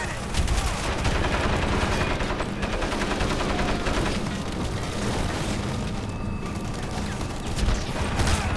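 Sustained rapid minigun fire in the Crysis video game, a dense continuous roar of shots with booming impacts running throughout at steady loudness.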